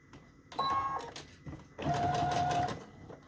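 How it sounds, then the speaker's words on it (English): Sewing machine running in two separate bursts over fabric and lace, zigzag stitching followed by a back stitch, with a steady mechanical whir and a brief pause between the runs. "back stitch, and just zigzag right down there, back stitch again"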